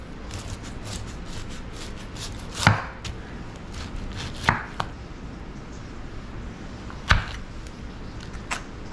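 Pineapple being chopped with a knife on a cutting board, a few sharp, separate knocks spaced out over steady low background noise, with no talking.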